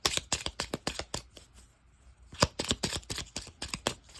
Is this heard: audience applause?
no